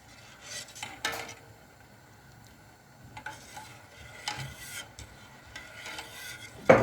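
A spoon scrapes and stirs sugar in a pot for dried apricot jam, giving intermittent rasping strokes in separate bursts with quiet gaps between them, close and fairly soft.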